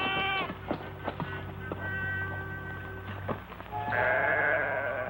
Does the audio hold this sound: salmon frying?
no